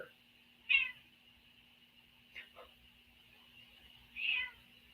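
Two clear cat meows about three seconds apart, fairly close, with a few faint shuffling sounds between them in a quiet room.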